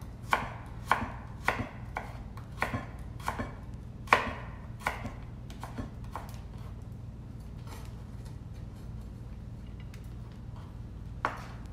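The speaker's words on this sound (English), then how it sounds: "Very good knife skills here, Georgie." Knife chopping vegetables on a cutting board while preparing veggie spring rolls, a run of crisp, evenly spaced close chops for several seconds, then a pause and one last cut, no talking.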